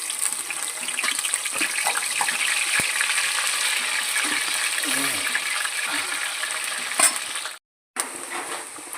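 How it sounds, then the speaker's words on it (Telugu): Washed dried prawns fry in hot oil, giving a steady, close sizzle and bubbling hiss that runs unbroken, cuts out briefly near the end, then resumes. "ఆయిల్ అయితే వేడెక్కింది కదా కడిగి పెట్టుకున్న రొయ్యలను అయితే ఇప్పుడు వేస్తున్నాను"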